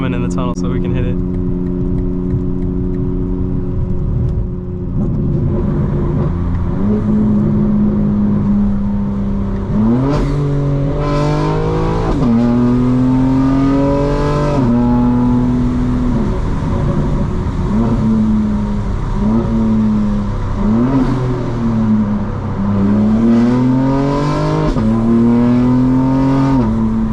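Inside a 2025 BMW M4 Competition xDrive on a night drive through a tunnel, the engine climbs repeatedly in pitch under hard acceleration, with several quick upshifts in a loud, close, rising-and-dropping pattern.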